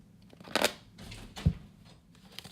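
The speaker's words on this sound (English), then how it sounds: "let's see how it shuffles" A few soft riffles and taps of tarot cards being shuffled up close, short and quiet, separated by brief pauses.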